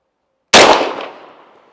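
A single sharp shot from a homemade blaster fired at a target, a sudden loud crack with a decaying ring-out tail, heard alone.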